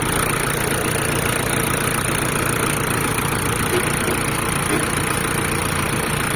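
Shibaura D26F Japanese-market tractor diesel engine idling in near-new condition, a steady, even drone with no change in pace, loud and continuous for the whole stretch with no talk.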